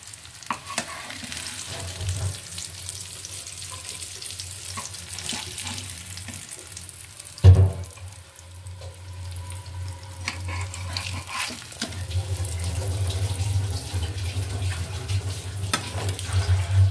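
Katla fish fries in a pan with a continuous close crackling sizzle, a loud clatter around the middle, then the frying carries on steadily with no talking.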